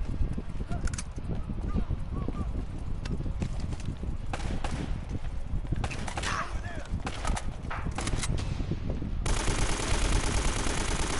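Gunfire with heavy recoil in a shooter video game: rapid bursts rattle on almost without pause, loud and close, with a sharper, brighter spray of shots near the end.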